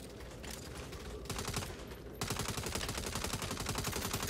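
Rapid automatic gunfire in the Saints Row video game, a steady stream of shots that grows louder and denser partway through, with no talking.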